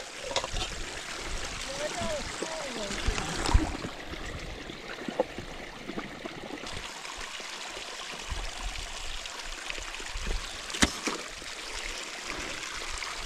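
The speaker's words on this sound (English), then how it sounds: "And a lot of running water in here." Steady rush of a running stream in the Selway-Bitterroot Wilderness throughout, with faint voices murmuring underneath.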